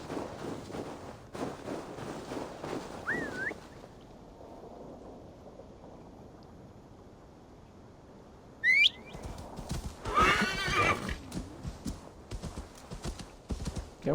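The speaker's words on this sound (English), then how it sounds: "how difficult is it to ride a horse?" A horse gallops in the video game Assassin's Creed Valhalla with rhythmic hoof clip-clops, a whinny and a quieter stretch of ambient rumble, then the hooves resume alongside another neigh.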